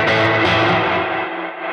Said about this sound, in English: This is the raw sound of the amp.